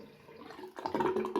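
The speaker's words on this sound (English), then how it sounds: "you've got the little whirly thing there, whirlpool, whirling the water down" Water gurgles and swirls down a just-unblocked sink drain in a whirlpool, quiet at first and then louder and bubblier, emptying the bowl in under ten seconds, with no one speaking.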